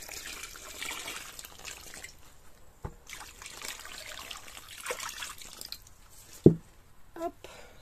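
During bedroom wall renovation, water is poured into a hand-mixed batch, making a soft, faint trickle and dribble, with a sharp knock near the end.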